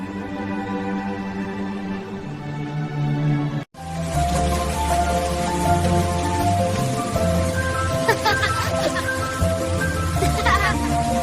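Cartoon rain falls in a steady, dense patter over a musical background, with a brief cut partway through before the downpour continues at full strength.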